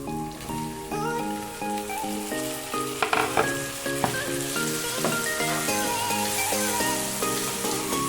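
Chopped tomatoes go into a pan of ginger and garlic sautéing for a chicken gravy, raising a steady, bright sizzle that runs continuously alongside tuneful background music.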